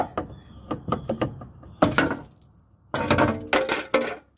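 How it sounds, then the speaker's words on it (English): Hard knocks and metallic thunks from a stick poking at the fuel tank shield under a 1997–2001 Jeep Cherokee XJ, a few separate taps followed by two louder bursts of rattling clanks, close by. "you might need to knock the shield free by poking it with a stick"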